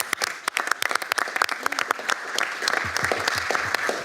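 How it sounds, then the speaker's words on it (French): Applause from a conference audience at a public procurement forum, a dense burst of individual claps that holds steady for about four seconds, close and fairly loud, with no talking. "je pense qu'on peut l'applaudir."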